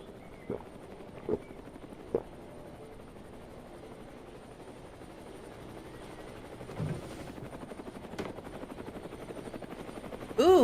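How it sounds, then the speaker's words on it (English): Steady low rotor drone of a helicopter flying in to deliver an airdrop in the zombie survival game HumanitZ, a faint continuous wash behind a few sharp in-game clicks and knocks, growing slightly louder toward the end. "We hear the helicopter noise? That is an airdrop."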